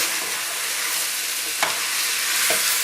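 Vegetables and garlic sizzling in a hot sauté pan, a steady bright crackling hiss with a couple of brief stirring scrapes, close and continuous.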